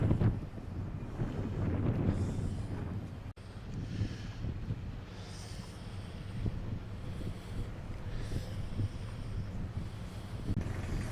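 Gusty wind buffets the microphone aboard a ship crossing cold, icy, windy northern waters, a steady rushing roar with low rumble underneath and uneven swells in strength, no voices.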